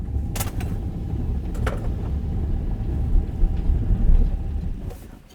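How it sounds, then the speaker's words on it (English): A VW California van brakes hard on sheet ice from about 65 km/h on winter tyres, the ABS pulsing as a low mechanical rumble with creaks and faint clicks, fading as the van stops. "Could you hear the ABS triggering the whole time?"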